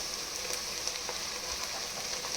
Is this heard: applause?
no